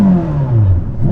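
A Ferrari SF90 engine revs loudly and up close with a sweeping, rising and falling mechanical pitch, alone without any talk.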